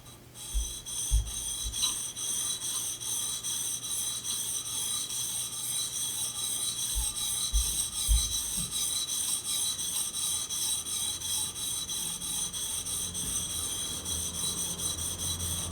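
A woodworking chisel has its back face flattened with steady, continuous rubbing and rasping strokes, close and even throughout, with no voices.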